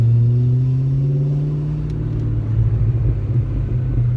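A 1991 Ford Mustang GT's engine rumbles steadily while driving, a deep continuous low drone heard from the cabin, with a couple of faint clicks partway through.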